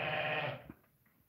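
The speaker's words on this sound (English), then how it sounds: "Oh, the other sheep are coming to have a look." A sheep bleats during lambing, a single loud, nearby cry that trails off and is followed by faint rustling.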